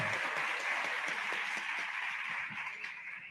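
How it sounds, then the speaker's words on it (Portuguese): An audience at a marketing-week event gives a speaker a round of clapping. The applause is fairly soft and distant, with a steady dense patter that slowly fades over a few seconds. "Mais uma salva de palmas para ele"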